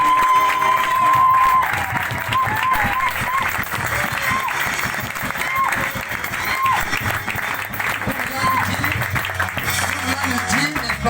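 A church congregation applauds and cheers in praise during a service, a sustained crowd roar with clapping that carries on under a voice speaking and a sung tone.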